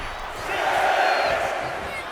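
Wrestling arena crowd in the video game WWE 2K26 roars in a steady, loud wash of cheering that swells briefly in the middle.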